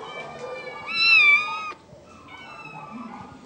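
A cat at an animal shelter meows loudly in a long rising and falling call, then gives a softer second meow, heard close and alone.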